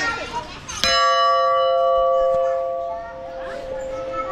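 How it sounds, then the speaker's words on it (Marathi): A single loud strike on a large temple bell at the Theur Chintamani Ganesh temple rings out close by and hums on in a long, slowly fading metallic tone, while children's voices and chatter carry on around it. "घंटा बघा किती मोठा आहे."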